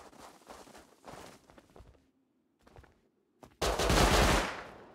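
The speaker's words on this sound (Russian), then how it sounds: "Вижу, перестреливаются внизу." Automatic weapon fire in the winter survival game Rust, with scattered shots early, a quiet gap and a sudden loud, sustained burst at the end, close and dense.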